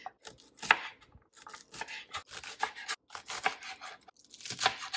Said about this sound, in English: now that I've rinsed them another time, we are gonna get to chopping